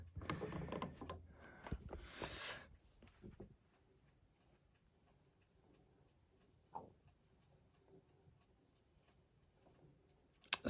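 White Rotary treadle sewing machine turning over, a short burst of loud rattling clatter from its shuttle and bobbin mechanism at the start, then it drops to faint, sparse ticks and knocks.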